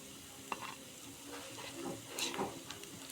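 Onion fritters (peyaji) fry in oil over a clay stove, a faint, soft sizzle with light stirring scrapes and a small clink, quiet and steady throughout.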